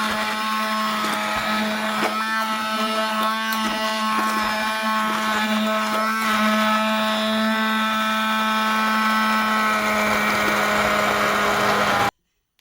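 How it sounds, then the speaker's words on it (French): An immersion blender churns fruit for bissap juice, a loud, steady whirring motor drone that holds for about twelve seconds and then cuts off abruptly. "J'utilise un mixeur plongeant, mais vous pouvez mixer vos fruits dans un mixeur normal."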